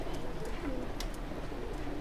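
Punjabi and Madrasi pigeons kept for sale in Delhi coo softly against a steady background hum, the low calls faint and continuous over two seconds.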